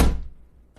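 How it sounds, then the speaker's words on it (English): One dull thunk as a door shuts, fading quickly into quiet. "The door clicks shut."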